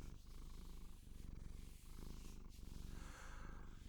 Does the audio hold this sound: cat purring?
yes